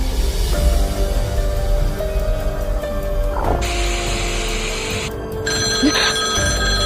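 A telephone rings in a tense horror film scene, its repeated electronic rings sitting over a steady, dense background of eerie music and ambience, moderately loud throughout.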